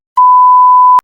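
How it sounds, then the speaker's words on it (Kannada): A single steady censor bleep cuts in loud and clean, holding one unbroken tone for just under a second before stopping abruptly. No other sound accompanies it. "ಬೀಪ್ ಹಾಕ್ತಿವಿ, ನೀವು ಕೇಳಿಸ್ಕೊಳಕ್ ಹೋಗ್ಬೇಡಿ."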